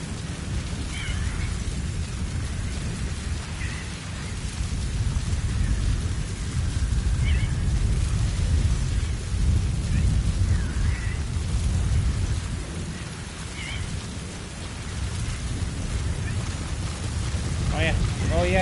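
Steady heavy rain with low rolling thunder in the video game Metal Gear Solid V: The Phantom Pain, a continuous wash swelling and easing over nearly twenty seconds, with faint brief sounds on top.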